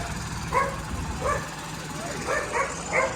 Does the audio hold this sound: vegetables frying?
no